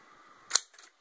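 A vintage Smith Corona manual typewriter: one sharp, close key strike with a metallic snap, followed by a fainter, shorter mechanical clack.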